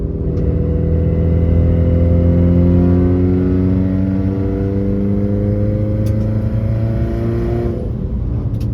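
A Subaru VA STI with an external wastegate stuck closed and overboosting pulls hard at about half throttle, its loud steady engine drone climbing slowly in pitch throughout, close and alone without talk.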